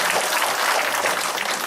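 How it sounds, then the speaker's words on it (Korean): Studio audience applause on a Korean education talk show, a short burst of dense, steady clapping from a crowd. "박수 한번 치죠."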